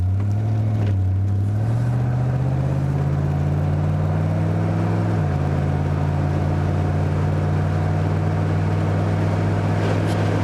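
A 1927 Ford Model T hotrod with a Ford 302 V8 pulling away: a loud, close engine drone climbs in pitch through the gears, drops at a shift, then holds a steady roar.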